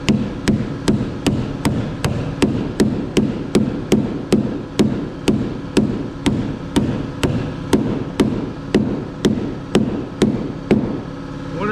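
Sharp metallic clunks from riveting a metal roof panel repeat at a steady pace, about two per second, each with a short ringing decay over a constant mechanical hum, with no voices.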